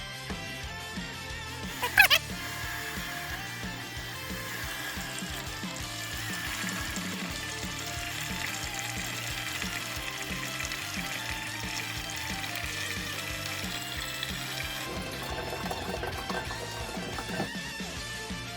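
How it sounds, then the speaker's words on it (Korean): Hot tap water pours into a pot to be boiled for fresh ramen noodles. The stream gives a steady, moderate rush throughout, with a brief clatter near the start. "일단은 빠르게 물을 끓이기 위해서 뜨거운 뜨거운 물로 좀 담아 볼게요."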